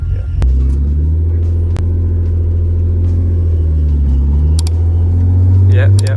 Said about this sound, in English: Yep, we're definitely spinning.